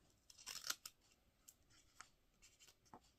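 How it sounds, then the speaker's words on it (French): Small scissors snipping ribbon during scrapbooking, a cluster of quick crisp cuts near the start followed by a few lighter isolated snips and faint paper handling, very close and quiet. "mes petits ciseaux qui vont bien"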